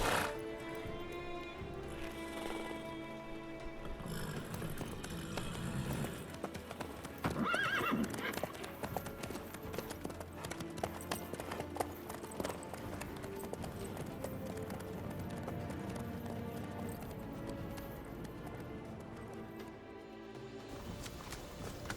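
Horse hooves clip-clop at a steady gait in The Witcher 3, with a whinny partway through, continuing under a dense layer of game sound and faint talk.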